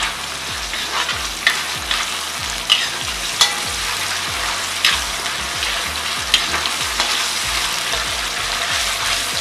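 Onions and curry leaves sautéing in hot oil for a pepper egg gravy, a steady close sizzle with repeated stirring scrapes of a spoon against the pan.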